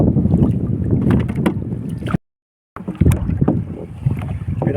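Strong waves slapping and splashing hard against a small boat's hull amid gusty wind noise, broken by a brief dropout partway through.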